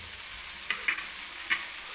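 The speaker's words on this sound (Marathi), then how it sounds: "1-2-3 मिनिटं ही आपल्याला या तेलामध्ये फक्त परतून घ्यायची आहे गवार" Cluster beans stir-fry in hot oil with crushed garlic and ground green chili, a steady fine sizzle broken by two or three brief spatula scrapes, with no voices.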